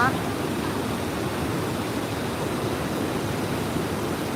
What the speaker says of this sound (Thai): น้ำไหลแรงมากค่ะ